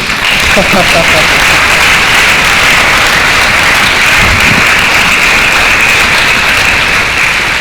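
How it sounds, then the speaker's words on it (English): Audience applause for line dance performers from a martial arts academy at a Buddhist temple gathering, a steady dense wash of clapping filling the whole stretch with faint voices mixed in. "Okay, a big applause for them again"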